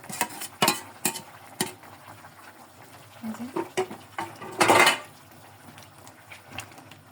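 Mixed vegetable curry with fried fish, beans, cauliflower and radish is stirred in a pan, giving close irregular scrapes and clatters of a utensil against metal, with one longer scraping burst midway and brief gaps between.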